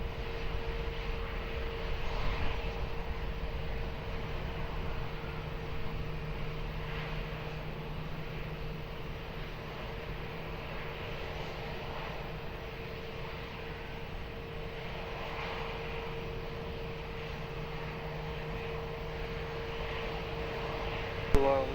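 An Embraer airliner on approach to land at Lisbon Airport gives a steady, distant engine drone with a faint tonal hum, running continuously beneath radio voices.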